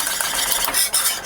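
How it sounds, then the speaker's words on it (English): Whisk beating ingredients into homemade vanilla pudding in a pot, a close, steady scraping and stirring sound with quick metallic clatter throughout. "I'm going to go ahead and whisk this in."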